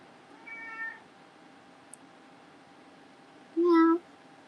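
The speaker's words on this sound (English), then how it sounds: "You hear my cats crying?" House cats meow twice: a soft, drawn-out cry early on, then a louder, closer, more insistent meow near the end, with near silence in between.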